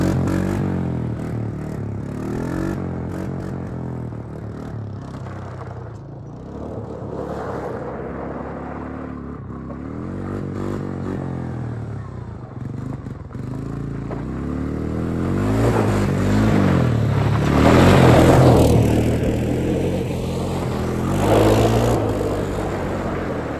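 A 250sx three-wheeler with a worn, restored engine revs and rips through wheelies, a loud continuous engine drone rising and falling with heavier surges toward the end, no talk over it.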